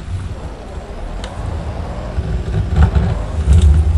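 Simulated Pessima car in BeamNG swinging through a J-turn, a low engine rumble with tire noise that swells louder toward the end, no voices.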